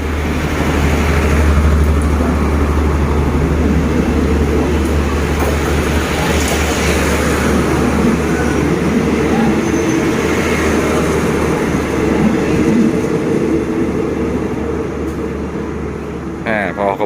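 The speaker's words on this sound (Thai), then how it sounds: "มาปิดท้ายคลิปนี้นะครับ ด้วยขบวนรถธรรมดาที่ 262 นะครับ" Ordinary train No. 262, running from Hua Hin to Bangkok, passes Ratchaburi railway station with a loud, continuous rumble and rattle of wheels and carriages that lasts throughout. Someone talks over parts of it.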